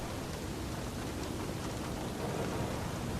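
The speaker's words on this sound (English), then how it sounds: "Rain strikes the windows in steady rhythm." Steady, dense rain hissing without pause, a continuous wash of drops striking lighthouse windows at night.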